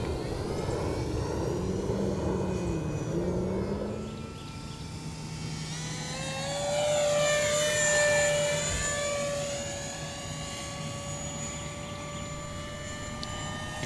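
An H-King EPO F-18 Super Hornet model jet with a 50mm 12-blade electric ducted fan on a 4s pack flies past. Its high whine rises and swells loudest around the middle, then eases into a steady, distant hum.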